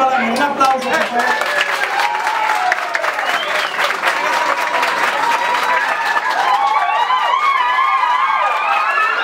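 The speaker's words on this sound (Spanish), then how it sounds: "Un aplauso, por favor." Dense, loud applause from an audience at a political gathering, with cheering voices and crowd chatter mixed in throughout.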